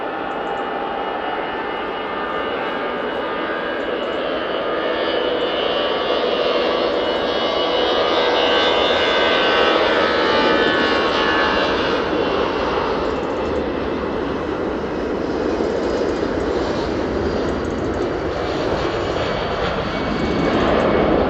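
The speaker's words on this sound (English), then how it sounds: "EasyJet A320 CEO now on the roll." An easyJet Airbus A320ceo roars down the runway at Manchester Airport on its takeoff roll, a loud, steady jet rumble and whine that holds for about twenty seconds, with a rising tone sweeping through toward the end.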